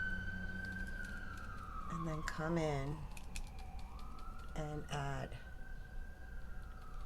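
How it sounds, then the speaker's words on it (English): An emergency vehicle siren wails outside, a distant rising and falling tone under a woman's close indoor speech, with two bursts of louder yelping in the middle. "Sorry about the sirens."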